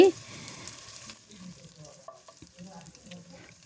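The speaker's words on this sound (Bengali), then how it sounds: "গোটা মশলাগুলো আমি খুব ভালোভাবে এখানে ভেজে নিব এই তো ভেজে নিচ্ছি" Whole cloves, cinnamon, cardamom and bay leaf frying in oil in a pan for Kashmiri chicken curry, a soft steady sizzle with light stirring scrapes, starting with a brief louder burst and settling to a quieter crackle.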